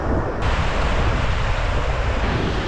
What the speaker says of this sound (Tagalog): Ang lakas ng waves.